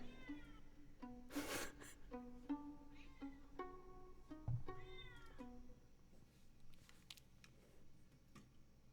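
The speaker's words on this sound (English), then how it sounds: "Did I get his meow?" A cat meows repeatedly at close range, with about eight drawn-out, tonal calls spread across the clip. A faint ticking and brief rustling sit in a quiet room behind them.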